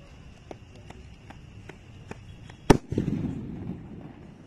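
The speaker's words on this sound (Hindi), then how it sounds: "अब इस मार्शल वाले सुतली बम को जला के देखते हैं कैसा जलता है" A Marshal sutli bomb firecracker is lit and goes off: faint crackles and taps lead up to one sharp, loud, nearby bang, followed by a brief rumbling tail of scattered debris.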